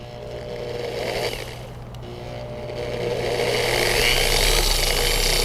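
Car paint polisher with a pad spinning and oscillating during auto detailing paint correction, a loud steady motor whine and buzz that swells and rises in pitch partway through, continuous and close with no talking.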